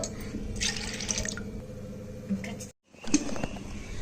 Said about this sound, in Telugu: 1 గ్లాస్ వాటర్ వేస్తున్నానండి